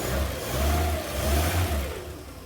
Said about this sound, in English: Revving it up, we don't change too much